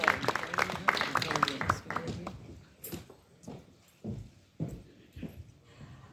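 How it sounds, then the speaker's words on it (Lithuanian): At a folk band's anniversary concert an audience applauds, dense clapping at first that thins out into scattered, separate claps and fades toward the end. "Žinoma, jūsų plojimai."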